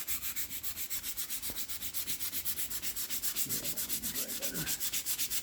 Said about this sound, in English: we're just scuffing it up and seeing how it looks